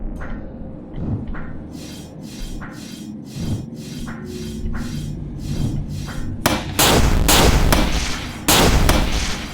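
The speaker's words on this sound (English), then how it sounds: "Also, there are 2 bullets firing, apparently." Gunshots ring out in the video game Dark Dreams, a string of sharp broadband cracks at a steady rhythm over a low rumbling game backdrop, turning denser and louder toward the end.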